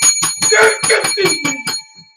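A bicycle-style bell rings in quick rapid bursts, about eight sharp metallic rings in a row, loud and close, fading out at the end.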